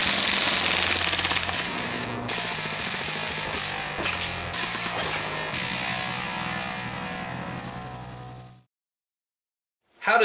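A WE SMG 8 airsoft gun firing long rapid full-auto bursts, a dense mechanical rattle close up that runs for about eight seconds before cutting out to silence, then a brief burst at the end.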